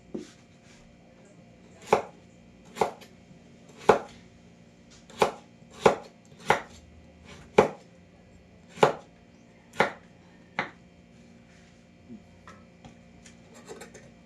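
A knife chopping carrots into cubes on a board for carrot and pineapple juice: about a dozen crisp, close chops at an uneven pace, loud and clear, then a few fainter taps near the end.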